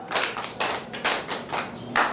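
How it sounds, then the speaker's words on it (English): A small group claps for a young tailoring student in a secondary school vocational class, sounding as a few uneven bursts of hand claps and thuds, close and moderately loud with no talk. "Clap for her."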